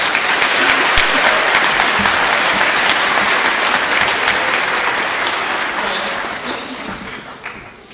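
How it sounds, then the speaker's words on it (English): Parents at a 5th and 6th grade school winter concert applaud loudly and steadily, a thick wash of hand claps with a few louder nearby claps, tapering off in the final seconds. "So I want parents, let's give your children another round of applause."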